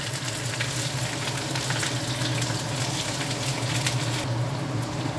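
Onions frying in olive oil in a pan over low heat, a steady close sizzle with soft bubbling and faint stirring, continuous and even throughout with no talk.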